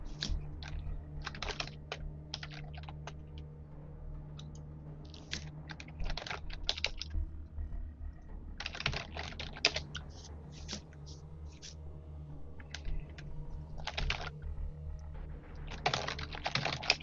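Keyboard typing during a gaming stream, in scattered bursts of rapid clicks separated by pauses, close and fairly quiet over a steady low hum.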